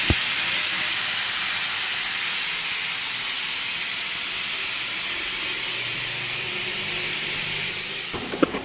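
A pressure cooker cooking potatoes and meat on a home stove lets out a loud, steady hiss of escaping steam that runs almost unbroken, with no voices.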